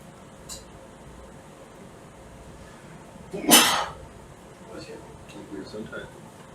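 A single sharp sneeze bursts out midway through a quiet room with a steady background hum and faint fan-like noise, loud and close against the low ambience.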